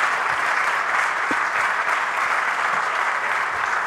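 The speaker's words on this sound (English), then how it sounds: "Applause, please." Sustained audience applause at a ministerial conversation in Warsaw marking the NATO alliance's anniversary, an even, fairly soft wash of clapping from a seated crowd heard throughout.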